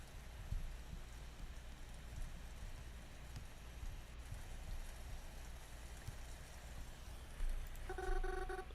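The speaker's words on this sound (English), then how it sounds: "Is it raining outside?" Rain falls steadily outside as a faint, even hiss with low rumbling underneath, heard alone without voices.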